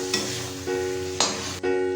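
Fried potatoes stirred in a hot spice paste for a soybean paneer biryani, close sizzling with three sharp scraping stir strokes punctuating the steady frying hiss.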